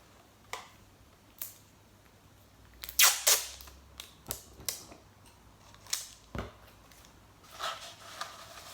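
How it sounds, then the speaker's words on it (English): Sticky tape pulled off a roll and pressed down while making a paper telescope craft: several sharp, crackly tearing bursts and short rips spaced irregularly, fairly close and alone, with a louder ripping stretch partway through. "again we'll stick some tape down there"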